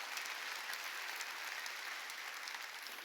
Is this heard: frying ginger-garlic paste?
no